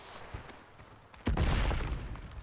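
Heavy booming impacts from an explosion in the video game Horizon Forbidden West, a sudden loud blast at about 1.3 seconds followed by a rumbling, crackling tail, with quieter thuds and a faint tone before it.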